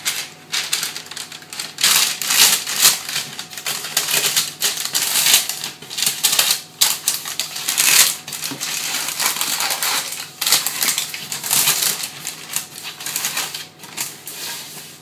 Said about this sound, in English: line that with greaseproof paper